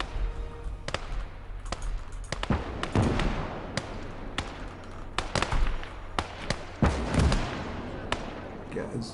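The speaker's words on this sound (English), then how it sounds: "There's some kind of heavy artillery piece out there." Heavy artillery and gunfire on an Eastern Front battlefield in the war game Call to Arms: Gates of Hell, sharp booms and cracks landing at irregular intervals, some near and some distant, over a low rumbling background.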